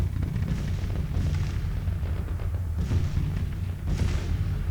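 Artillery fire in the Civil War strategy game Grand Tactician, heard as a steady rumbling bed of distant cannon booms with several heavier thuds rising out of it, no talk over it.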